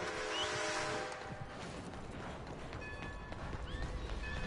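Horse hooves clip-clop through Red Dead Redemption 2, with a horse's whinny rising partway through over a steady game soundscape at moderate loudness.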